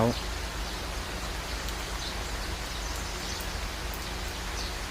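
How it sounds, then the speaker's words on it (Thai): Steady morning rain hisses down in a backyard in a constant wash of noise, with faint patters on top and a low rumble underneath. "เช้านี้ฝนตกนะครับ ดูบรรยากาศนะครับฝนตกตอนเช้า"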